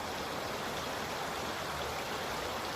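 Flowing stream water rushes in a constant, even broadband wash, close and steady throughout with no voices over it.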